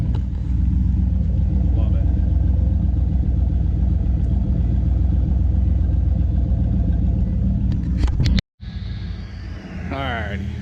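A car engine idles steadily close by with a deep, even rumble, a voice speaking briefly over it, before the sound cuts out abruptly near the end and resumes more faintly.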